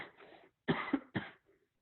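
Quiet indoor coughing during a morning Torah class, a soft throaty rasp followed by two sharper, closer coughs in quick succession.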